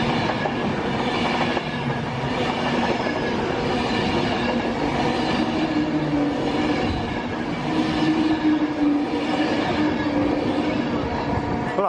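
Trains pass along a busy mainline railway, a long loud rumble of wheels and carriages with clickety-clack and a brief squealing tone, continuous throughout.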